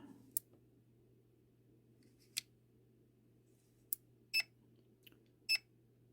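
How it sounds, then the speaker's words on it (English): An airsoft gun's MOSFET gives a LiPo battery alarm as a few brief, sharp electronic beeps and clicks spaced irregularly over a low steady hum, quiet and without talk. "I think that might be LiPo alarm"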